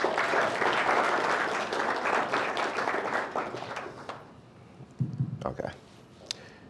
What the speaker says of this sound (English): So can we give them a huge round of applause?